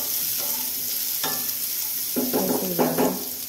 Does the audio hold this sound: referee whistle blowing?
no